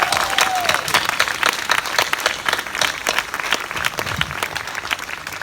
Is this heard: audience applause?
yes